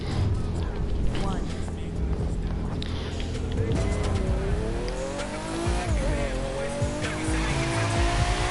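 A car in The Crew 2 drifts with long, wavering tire squeals over a loud, steady engine roar, and a voice talks over it throughout.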